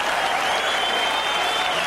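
A boxing arena crowd at a heavyweight title fight keeps up loud, sustained applause and cheering, a dense wash of clapping and shouting with no pauses, as if heard from ringside.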